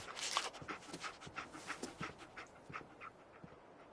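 Dogmeat the dog from the video game Fallout 4 panting in quick, rhythmic breaths, close but soft, continuing steadily without talking.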